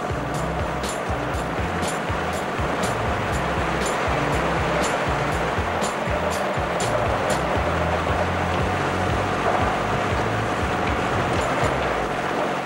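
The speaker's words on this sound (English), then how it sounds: "and is constantly washed by jets of water from the manifold." RMS-Ross derocker washing gravel across its grizzly with jets of water from a manifold, a loud continuous rushing spray over low machine rumble, with faint rhythmic ticking throughout.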